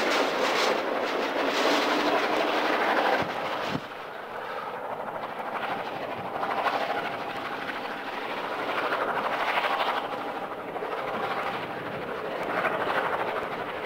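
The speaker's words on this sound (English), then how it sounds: "Two SD9s lead a work train eastbound past Waylong." Two SD9 diesel locomotives rumble past hauling an eastbound work train on the Tehachapi line, a loud, steady roar of engines with some wheel noise that stays strong throughout.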